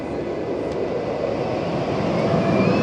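Small Zero Tivoli ladybird spinning coaster whooshing round its track, a steady loud rushing roar with a faint rising whine that holds for a few seconds without a break.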